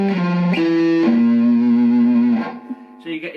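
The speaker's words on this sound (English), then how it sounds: "you get a nice bit of distortion and sustain there" An electric guitar played through a Boss ME-70 multi-effects unit on its metal setting rings out loud and close with heavy distortion and long sustain, holding a few bent notes before trailing off into short quieter plucks.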